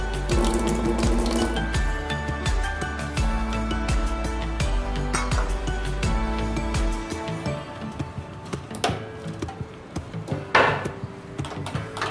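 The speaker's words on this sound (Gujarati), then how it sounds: "હવે એમાં આપણે ખાંડ ડૂબે એટલું જ પાણી નાખવાનું" Water poured over sugar in a bowl for fennel syrup, a steady splashing and trickling stream up close that thins into scattered drips and small knocks, with no voices.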